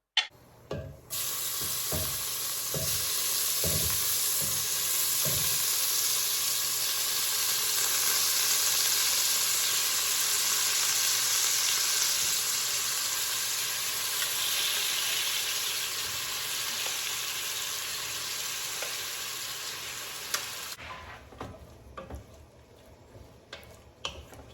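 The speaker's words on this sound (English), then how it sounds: "So I'm going to cook my bacon first and cooking that up" Bacon for Texas chili fries in a pan with a loud, steady crackling sizzle lasting about twenty seconds, framed by a few knocks and clatters at the start and end, no talking.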